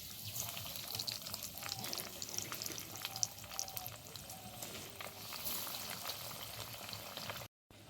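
Pieces of fried milk sizzle in oil, a steady bubbling crackle with scattered pops that holds throughout before stopping abruptly at the very end; no speech.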